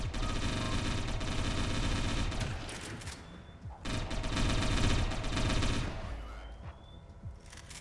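Gunfire in the Satellite Reign video game comes as dense, sustained bursts of rapid shots, loud and continuous with brief lulls, and no talking over it.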